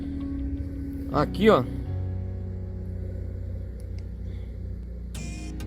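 A 2012 Chery S18 with a reworked cylinder head cranks briefly, then settles into a steady, low idle rumble, loud and close, with someone speaking briefly as it starts.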